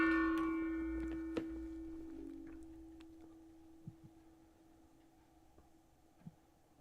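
A single bell rung during a movie watch party strikes near the start and rings out in a long, sustained tone that gradually decays, followed by a few faint soft ticks.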